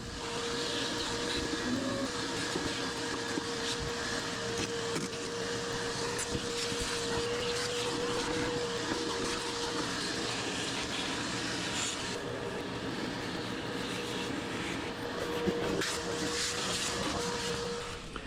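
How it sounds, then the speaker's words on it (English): A vacuum cleaner runs with a steady, loud, unbroken drone as it cleans out the inside of a Kenmore appliance, with a faint tonal whine held throughout and no speech. "get the vacuum out. We'll vacuum some of this stuff."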